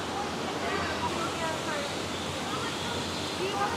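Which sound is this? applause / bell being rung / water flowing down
water flowing down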